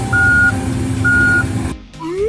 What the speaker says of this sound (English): This is a street sweeper truck. It cleans roads and keeps streets nice.